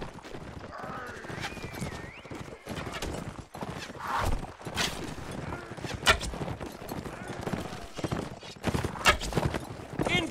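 Cavalry horses gallop through a Mount&Blade Warband battle, with dense clip-clop hoofbeats, whinnies and scattered clashes over busy battle noise, while voices shout in the background.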